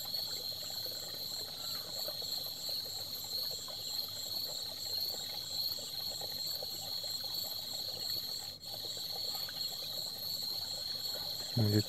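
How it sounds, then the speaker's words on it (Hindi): Pond water drains away and trickles in a low, steady wash beneath a dense, constant chorus of crickets and insects, moderately quiet, with no speech. "आपको सुनाई दे रहा होगा तालाब का जो पानी है वो नीचे से जा रहा है,"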